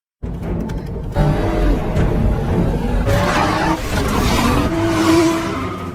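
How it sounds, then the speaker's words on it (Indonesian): Cars in a high-speed action film chase roar loudly and continuously, with tires skidding and squealing in bursts as engines rev. "Jang Bi memilih untuk kabur hingga memicu aksi kejar-kejaran mobil yang sangat berbahaya."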